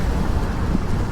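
Strong wind near Marmaris beach, Turkey, buffets the microphone as a loud, continuous low rumble with slight gusting surges and no voices.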